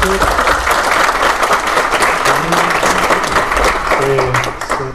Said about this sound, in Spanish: de nuevo un aplauso